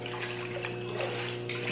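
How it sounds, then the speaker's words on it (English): Steady, continuous watery rushing and splashing with a low motor hum underneath, an old pump running and discharging water from a basement flooded a foot deep. "I got this old pump going"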